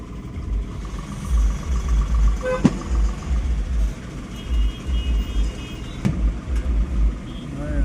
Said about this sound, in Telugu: ఈ రోడ్ అంతా జామ్ అయిపోయింది